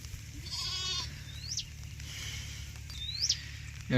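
Two short, high bleats from a nearby sheep, separated by a pause, over quiet outdoor background during several days of drizzly weather.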